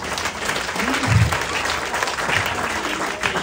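A church congregation claps together in steady, full applause, a close and even wash of hands with some murmuring voices underneath throughout.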